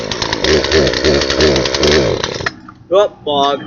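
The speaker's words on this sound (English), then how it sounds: "we're going to be cutting a plaino tackle box with a chainsaw" A chainsaw cutting into a Plano plastic tackle box roars steadily and close for a couple of seconds, then cuts off as a man's brief exclamations follow.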